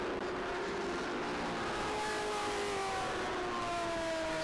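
Vintage race cars at Road Atlanta accelerating as the field returns to green in an SVRA International GT sprint race, a distant blended engine roar with rising whine tones sweeping upward across the track.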